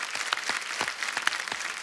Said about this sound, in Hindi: तो हमारे डॉक्टर्स के लिए एक बार जोरदार तालियां।